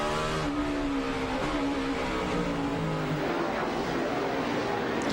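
Onboard a NASCAR Cup race car driven by Montoya at Sonoma in 2007: a loud, continuous engine note that climbs and falls through gear changes, with rising harmonic sweeps as the car accelerates through traffic.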